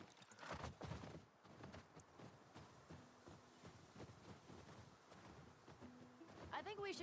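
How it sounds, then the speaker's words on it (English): Horse hooves clip-clop in The Last of Us Part 2 amid game ambience, a steady run of soft, moderately close hoofbeats with voices talking over them. "Hey, get on the horse, Ellie."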